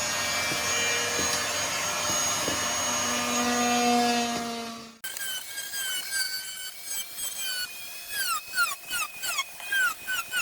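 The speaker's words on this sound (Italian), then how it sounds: "Accendimi l'aspirapolvere anche." A vacuum cleaner drones steadily with a whining hum for several seconds inside a 1980 Hymer camper, then cuts off, leaving a run of high squeaky chirps.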